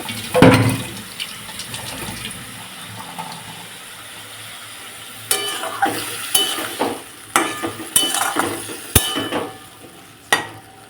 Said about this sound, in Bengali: মশলাটা একটু যাতে পুড়ে না যায় তাই একটু জল দিয়ে দিলাম অল্প